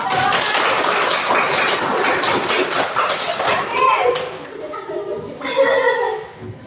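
Children in an elementary classroom clap together in a dense, lively patter for about four seconds, then the clapping thins out as kids' voices and chatter take over.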